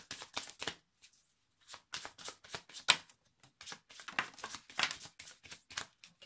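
Tarot cards are shuffled close up in quick, crisp bursts of riffling and slapping, separated by short pauses, with no voices.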